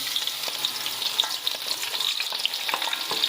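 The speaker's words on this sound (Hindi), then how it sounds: "5 कटी हुई प्याज डाल देंगे इसमें" Chopped onions frying in hot oil for a capsicum keema dish make a loud, continuous sizzle close by, with frequent stirring clicks and scrapes throughout.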